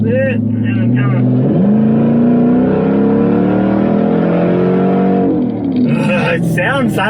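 A Nissan Patrol Y62 V8 engine accelerates with a loud, rising rumble heard from inside the cabin, its pitch climbing steadily before easing off, with a person talking over it near the end.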